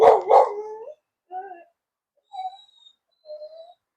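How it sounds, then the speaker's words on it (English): Dogs at home barking at neighbors: a loud double bark up close, then three separated, quieter yips and howl-like calls spaced about a second apart, with no talking. "I have dogs, so they're barking at some neighbors right now."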